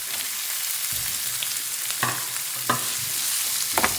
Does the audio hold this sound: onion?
yes